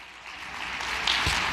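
A church congregation applauds together in a dense, steady wash of clapping that swells slightly toward the end, with no voices standing out above it.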